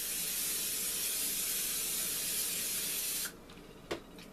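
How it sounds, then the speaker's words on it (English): A steady, loud spray of cooking oil onto a baking pan hisses for about three seconds, then stops, followed by a couple of faint clicks and a light knock. "I'm going to spray my pan so they won't stick."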